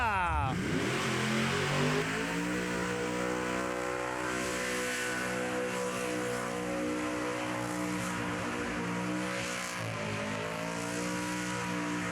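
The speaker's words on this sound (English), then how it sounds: "VF Commodore Ute now. War Speed LS with the blower on top, of course." A supercharged LS V8 VF Commodore ute holds a loud, sustained engine roar with a rising rev at the start and a brief dip near the end, mixed with crowd and commentary noise at a burnout competition event.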